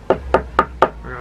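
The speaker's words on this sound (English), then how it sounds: "All right, bro, I'ma knock on wood for you then." Four sharp knocks on wood, evenly spaced about a quarter second apart, close and crisp with no other sound around them.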